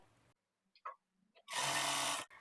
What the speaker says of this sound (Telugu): ఇప్పుడు ఈ మార్కింగ్ మీదనే స్టిచ్ చేసుకోవాలి స్టార్టింగ్ లో ఇలా రఫ్ చేసుకొని స్టిచ్ చేసుకోవాలి